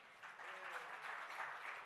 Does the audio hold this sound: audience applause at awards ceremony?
yes